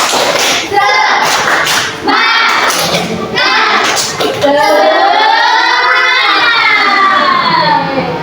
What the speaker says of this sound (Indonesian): Kalau udah pada tahu kita langsung aja tepuk semangat.